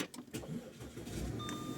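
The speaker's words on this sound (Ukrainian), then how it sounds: "і машинка запустилася" A 2015 Audi Q5 started with keyless push-button start, a short electric cranking whir settling into a steady engine idle, close and moderately loud, ending with a faint high electronic tone.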